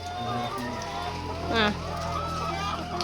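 Laying hens sick with coryza cluck and murmur faintly in a poultry house, a brief louder cackle rising amid steady background noise while a person talks nearby.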